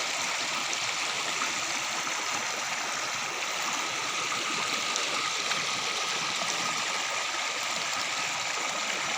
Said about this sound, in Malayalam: വെള്ളം ഒരു ചെറിയ തോട് വഴി ഇങ്ങനെ ചാടി അവസാനം പുഴയ്ക്ക് പോകും.